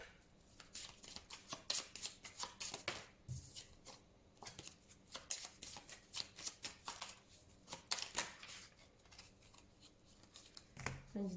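Tarot cards are shuffled up close in quick riffling bursts separated by brief pauses. A voice speaks softly underneath.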